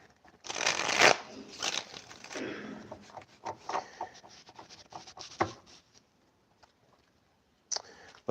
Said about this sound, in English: But that's a lot of shuffling.